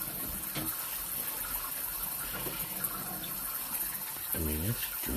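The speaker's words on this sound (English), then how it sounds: "it's draining really good, guys" Water gushing and draining down a drain on a shared line, a continuous rushing flow with brief voice sounds over it near the end.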